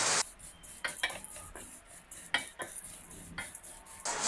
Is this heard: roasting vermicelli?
yes